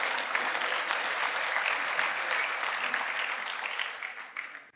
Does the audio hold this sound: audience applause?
yes